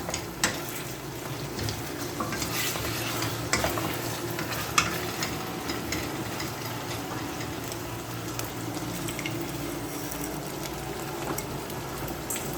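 Chicken frying with garlic in a pot, a steady dense sizzle with stirring scrapes and occasional sharper clicks throughout, close and continuous with no talk.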